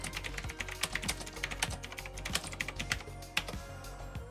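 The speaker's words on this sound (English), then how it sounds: "So I'm just going to type for a few minutes just so you can see what it's like." Keys clatter on a gray Knewkey Rymek typewriter-style mechanical keyboard with blue switches, fast uneven clicky strokes heard close up, with no talking.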